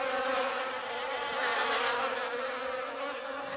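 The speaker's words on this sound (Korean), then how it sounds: "파리, 날파리." Flies and small gnats buzzing as a swarm, a steady droning hum with wavering pitch that fills the whole stretch, close and continuous with no talk.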